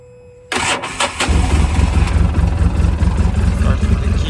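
A 2011 Polaris RZR 800 cranks briefly on the key and catches, then settles into a loud, steady rumbling idle, close up with no voices.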